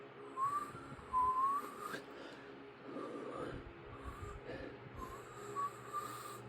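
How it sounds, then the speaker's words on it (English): A person whistles softly in short, faint melodic phrases with pauses between them, heard alone against a quiet indoor background. "Well, I don't know if you can hear me whistling."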